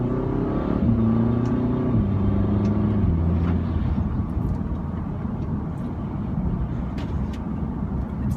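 A 2015 Audi S3 engine accelerating in manual mode drones loudly and steadily, its pitch stepping through gear changes under part throttle, heard from inside the car.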